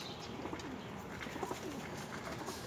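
Domestic pigeons kept at home coo softly in a low, faint murmur over a steady background hiss.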